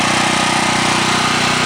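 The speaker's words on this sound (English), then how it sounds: "it shuts down a lot of the noise of running a generator" A homemade Generac generator runs with a loud, steady engine drone that stays constant throughout, with no talk.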